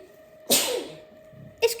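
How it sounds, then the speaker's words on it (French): A single sudden sneeze from a woman during a knitting podcast, sharp and close, trailing off, with a small second exhalation or catch of breath just after. "je sens que je vais éternuer"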